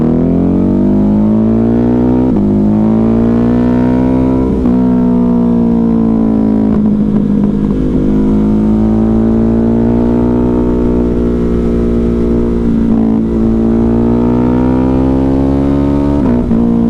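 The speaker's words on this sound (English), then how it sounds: "I feel like it should sound like a supermoto, but it sounds like a sport bike." A Ducati Hypermotard 950 RVE engine drones loud and close while riding, its steady throbbing note rising and falling gently with small throttle changes for the whole stretch, under strong wind rush, with no voices.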